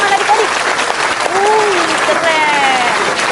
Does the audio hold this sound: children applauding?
yes